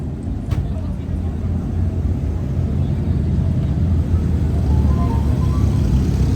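A Death Kart rolls past at the Woodward Dream Cruise car show, its engine a loud, steady low rumble that holds for the whole stretch, with crowd noise and voices mixed in around it.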